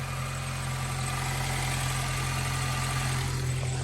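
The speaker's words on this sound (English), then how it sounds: "the engine actually sounds pretty good" Used car engine with about 233,000 miles idling at a dealer auction, a steady close low rumble with even vibration and no talk over it.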